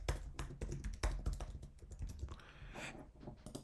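A name is typed on a computer keyboard: a quick, uneven run of close, crisp key clicks and taps, with a brief pause in the middle and no talk.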